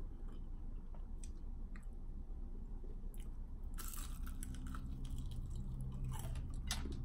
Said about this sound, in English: Loving the crunch